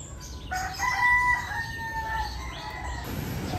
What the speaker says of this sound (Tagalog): May ligaw na ibon na naman dito.